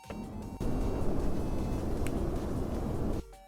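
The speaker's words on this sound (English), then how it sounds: "as well as the background noise for just some wind in the trees" Wind rushing through trees as horror-game background ambience: a loud, deep, continuous roar with gusty swells that surges in after a softer opening and drops away abruptly near the end.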